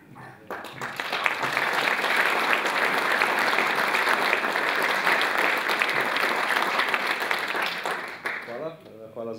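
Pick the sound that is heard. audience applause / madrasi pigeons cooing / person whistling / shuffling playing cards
audience applause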